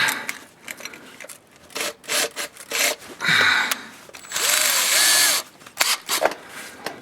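Cordless power drill fitted with a 5/16 bit boring into the stripped threads of a 1986 Jeep XJ 2.5L flywheel, heard as loud, steady grinding bursts with pauses and scraping in between, close by and without speech.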